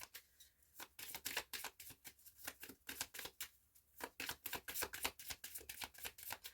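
Zodiac tarot-style cards are shuffled by hand in quick, crisp riffles and flicks, a rapid run of close, papery snaps with short pauses between bursts and no voices.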